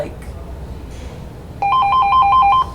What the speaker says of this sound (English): I forgot to disconnect the phone